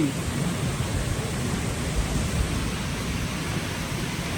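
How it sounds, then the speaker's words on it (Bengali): A dense, steady wash of heavy rainfall in Dubai fills the scene, loud and continuous with a low rumbling undertone. "আর বাইরে এমন বৃষ্টি হচ্ছে"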